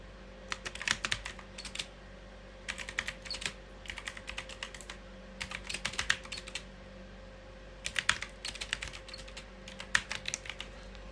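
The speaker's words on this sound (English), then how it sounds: "I'm just typing something random" Someone types on a computer keyboard in quick, soft clusters of key clicks separated by short pauses, close and quiet in an otherwise still room.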